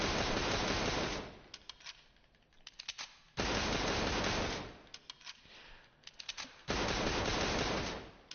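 M16 rifle gunfire in the America's Army video game, three bursts of rapid shots each ringing out into a long loud roaring decay, separated by short pauses, with no talk.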